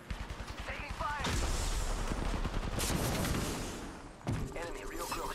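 Heavy gunfire erupts in an Apex Legends firefight, a sustained loud barrage of rapid shots and impacts close up, interrupted briefly before resuming, with game voice lines over the noise.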